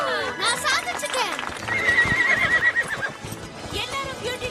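Dancing horses in an animated Barbie movie neigh loudly with shrill whinnies over hooves clip-clopping, accompanied by music and a voice talking.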